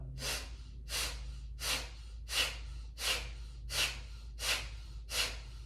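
Eight forceful, evenly spaced nasal exhales from Kapalabhati pranayama breathing, each a sharp close puff about every 0.7 seconds over a low steady hum.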